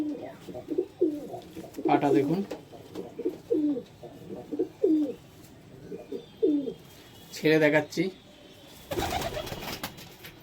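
Pigeons of mixed breeds, including Shahjahanpuri, desi, Madras and Giribaz, coo in repeated throaty phrases at a sale, close and fairly loud, interrupted by bursts of wing flapping and someone talking.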